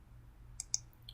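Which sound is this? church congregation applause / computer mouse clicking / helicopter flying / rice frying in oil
computer mouse clicking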